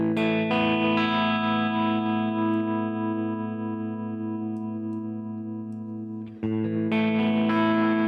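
A distorted electric guitar chord played through a Tone Master Pro rings out through a tremolo effect and slowly fades, then is struck again sharply near the end.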